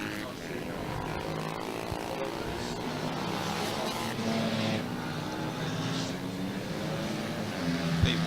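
Honda CRF 150 pit bikes race around a track, their engines droning and buzzing at a distance in a steady layered whine, with a commentator talking over the noise.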